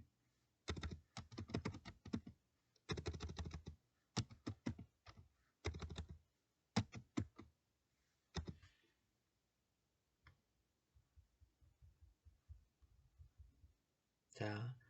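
Keys clatter on a computer keyboard as a destination, Chungju City Hall, is entered into a navigation search, the typing coming in quick bursts with pauses, near and fairly quiet, with a few softer taps toward the end.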